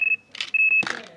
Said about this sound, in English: If we turn the volume up on our bite alarm sounder